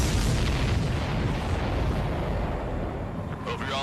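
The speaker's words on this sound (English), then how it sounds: "Did you see that explosion?" Large explosion in the flight combat game Ace Combat 7: Skies Unknown, a loud, dense continuous roar of blast and rumble filling the whole clip without letup.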